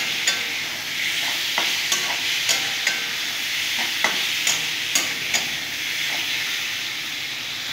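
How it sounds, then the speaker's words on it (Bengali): Ghugni mixture with chickpeas and tomatoes sautéing in a pan: a steady frying sizzle and hiss, with the spoon scraping and clicking against the pan in a loose rhythm about once a second, close up and with no talk. "ভালো করে টমেটোর সাথে কষিয়ে নেব।"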